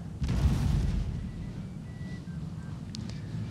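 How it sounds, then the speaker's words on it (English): In a Napoleonic battle video game, artillery fires a deep, rumbling boom that swells and fades, followed by a lower continuous battlefield rumble with faint scattered cracks. "My artillery is actually hitting them."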